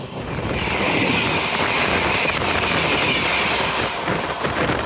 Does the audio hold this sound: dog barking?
no